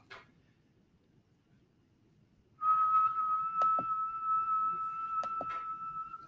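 A person whistles one steady pure tone that starts abruptly after a quiet moment and holds at an even pitch for several seconds, close to the microphone, with a couple of brief clicks partway through.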